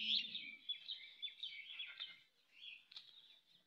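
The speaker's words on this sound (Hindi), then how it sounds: "चिड़िया भी चहचहाने लगी दोस्तों" Small birds twitter continuously in high, bright trills, close by and alone, with a brief low flutter at the start.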